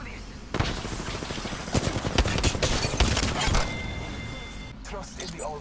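Rapid bursts of automatic gunfire crackle through an Apex Legends firefight, loud and dense over several seconds, with players talking over the shots.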